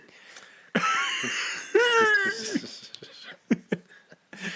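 A few sharp, harsh coughs break out among bursts of laughter and breathy vocal sounds, close and fairly loud.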